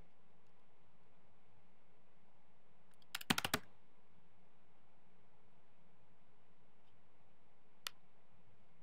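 A brief burst of computer-keyboard keystrokes while a password is entered, a quick cluster of clicks in a quiet room, followed much later by one more faint tap.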